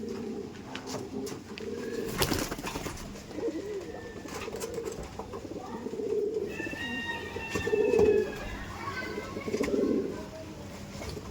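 Male pigeon cooing in a loft, several soft rounded coos repeating near and fairly quiet, with chirps and a few sharp clatters around them and no talk.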